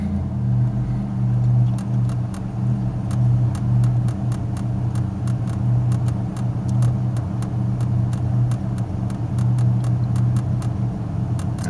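A repaired Buick car engine idles steadily with no throttle, a loud, even low rumble joined by a regular light ticking throughout.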